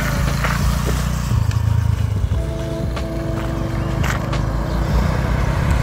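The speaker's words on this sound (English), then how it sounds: "Just wait for this bike to pass." A motorbike goes by on a rural road, its engine droning louder in the middle of the pass before receding, over outdoor background noise.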